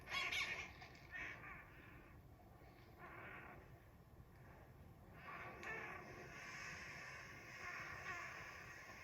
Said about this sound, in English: That caw, caw, caw. That's the sound they make when they see a hawk.